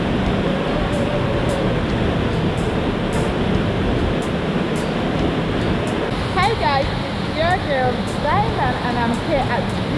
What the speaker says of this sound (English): here at the beautiful Waterfall